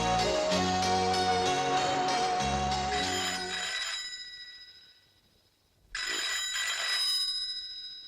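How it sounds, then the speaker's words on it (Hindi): A telephone rings with a repeated electronic melody, pauses briefly, then rings again; no voices. "रात का किसका फोन है?"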